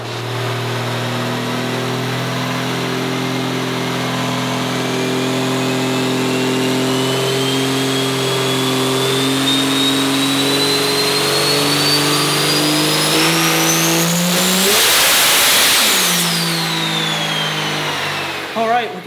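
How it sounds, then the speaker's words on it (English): Diesel truck engine, a 2000 HP regular cab short bed, revving hard on a dyno, its loud sustained roar climbing steadily in pitch toward a screaming peak near the end before backing off. "So now we're going to run the thing through its paces on the dyno and see what kind of power we can make today."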